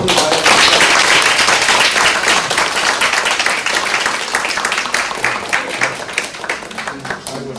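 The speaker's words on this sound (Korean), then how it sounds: "큰 박수로 오늘" Audience applause at a university Buddhist studies lecture on a classical Korean text, a dense, loud burst of clapping from the hall that gradually thins out over several seconds.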